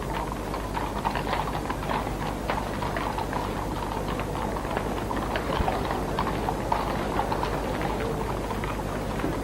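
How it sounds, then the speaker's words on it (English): Horses' hooves clip-clop slowly and steadily while drawing a royal funeral cortege for Diana in London in 1997, a soft continuous clatter of many hooves over a hushed outdoor crowd ambience. "Prince Charles and the Duke of Edinburgh, were drawn slowly by the sound of hooves to join the cortege."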